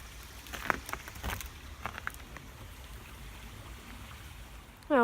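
Water of a stream runs steadily down toward a reservoir on a walk through a nature reserve, a soft continuous rush with a few faint knocks and clicks.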